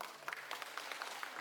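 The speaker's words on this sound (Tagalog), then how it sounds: "Palakpak ko natin si Giro." Brief burst of crowd applause at a community project launch in Brooke's Point, steady clapping from an audience throughout the short moment.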